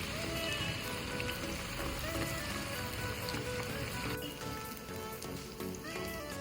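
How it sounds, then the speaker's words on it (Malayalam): Chicken pakoda pieces frying in hot oil, giving a steady, dense crackle and hiss that runs for several seconds without letting up. "ചൂടായ എണ്ണയിലോട്ട് കുറേശ്ശെ ഇട്ട് കൊടുക്കണം"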